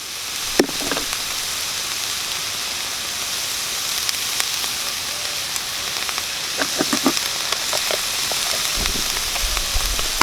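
Sliced jalapeño and serrano peppers sizzle in a hot pan with a steady, bright hiss and a few soft pops and clicks from stirring, without any voices.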